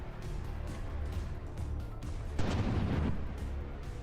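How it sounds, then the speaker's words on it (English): Artillery volleys in the naval combat game From the Depths, with heavy booming shots over a dense rumbling battle bed and a louder, thicker burst in the middle of the stretch. "We got another volley popping in there."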